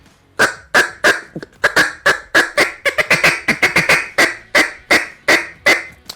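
Duck call blown in a run of short clucks that speed up and grow louder, with rapid chatter notes mixed in; about twenty sharp, close, evenly spaced quacking bursts with no talking.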